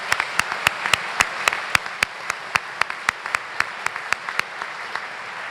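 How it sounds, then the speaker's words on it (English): Guests at the 2019 Eagle Dinner give a round of applause: a wash of crowd clapping with one close, loud clapper beating out a steady, regular rhythm over it. "Let's give them a round of applause."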